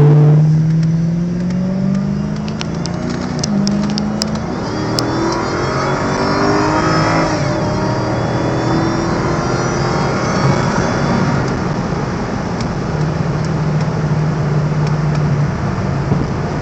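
A Cadillac STS-V accelerating hard on a road in traffic, heard from inside: a loud engine note that climbs steadily in pitch through the gears with brief shift breaks, continuous and without talking.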